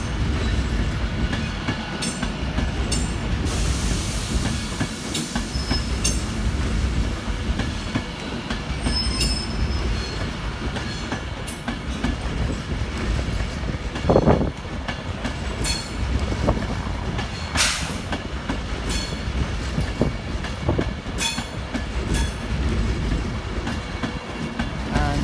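A Class 390 Pendolino train rolls through Crewe station on the West Coast Main Line toward Manchester Piccadilly, a continuous rumble of wheels with intermittent metallic squeals and clicks throughout, fairly close.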